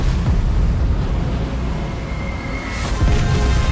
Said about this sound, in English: Bismarck responded, firing salvos at the leading enemy ship